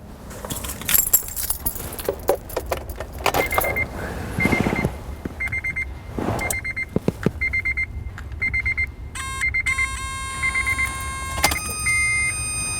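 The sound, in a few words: car key inserted and turned in the ignition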